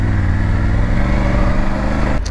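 Triumph Tiger 900 GT Pro 2020 motorcycle on the road, a loud, continuous close engine drone with wind rush that cuts off abruptly at the end.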